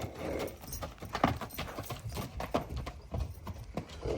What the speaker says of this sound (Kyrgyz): Үсөн байдын аты.